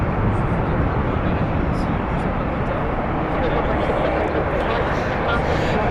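A Qantas airliner at Heathrow readying for takeoff from runway 09 left, a constant broad engine roar filling the whole stretch, with someone talking over it.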